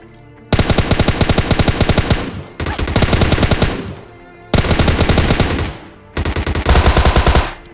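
Loud, close automatic gunfire from the mobile battle-royale game PUBG Mobile Lite comes in four sustained rapid bursts separated by short pauses, with no talk over it.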